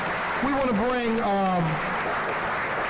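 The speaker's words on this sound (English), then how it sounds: "Let's clap it up for the brother." Audience applause at a Black male development symposium, steady broadband clapping throughout, with someone speaking briefly over it.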